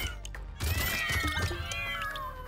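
After a brief lull, a flurry of meowing cat-themed weapon attacks in the video game Brotato erupts, layered high mews streaming continuously over soft thuds.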